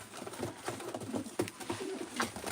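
Pigeons with leg bands cooing softly at close range, a few overlapping low murmuring coos over rustling and faint background noise.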